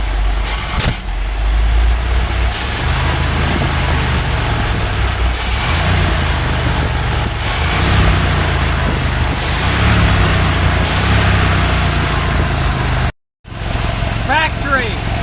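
A GMC truck engine with a freshly rebuilt Stromberg WWC carburetor runs steadily up close, its low idle pulsing with periodic swells of revs, a brief dropout near the end followed by talking.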